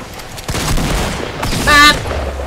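Rapid shots from an auto shotgun in Fortnite, a few sharp blasts in quick succession followed by more bursts and a bright ringing hit tone, loud and close.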